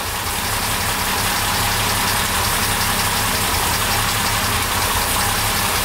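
A car engine fitted with SU carburettors runs close and loud at a steady idle, an even droning rumble throughout with no voices.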